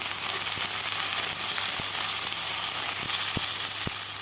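Chopped dhenki greens frying with potatoes in an oiled pan make a continuous close hiss and sizzle, punctuated by several sharp taps of a spatula stirring against the pan.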